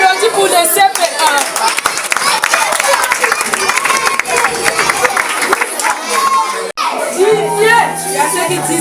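Children's school party audience applauding at an end-of-year celebration, loud sustained clapping mixed with crowd chatter and children's voices, with a brief dropout near the end before noise resumes.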